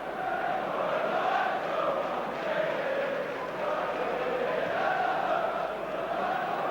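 Large football crowd at Elland Road for a 1994/95 Premiership match between Leeds United and Tottenham Hotspur, a steady roaring wash of many voices with slow swells, continuous and dense throughout.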